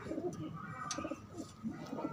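Pigeons coo softly inside a freshly painted loft, low burbling calls repeating close by in a short burst with faint background noise.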